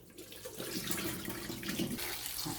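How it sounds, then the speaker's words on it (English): Fresh tap water runs into a sink as bitter gourd is rinsed, a steady rushing splash with the water pattern shifting as the vegetables are moved about. "Another rinse with fresh water."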